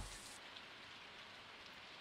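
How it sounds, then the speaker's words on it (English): Rain falls in Stardew Valley, a steady, faint wash of drops pattering on surfaces, quiet and unbroken, with no voices over it. "It's a rainy day."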